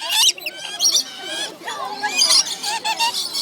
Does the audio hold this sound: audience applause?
no